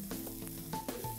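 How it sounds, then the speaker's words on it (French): A Maggi stock sauce sizzles in a pan as it is stirred, a brief low hiss with soft stirring movement, close and fairly quiet. "On va maintenant bien mélanger le tout et laisser les saveurs se mêler les unes aux autres pendant 2 minutes"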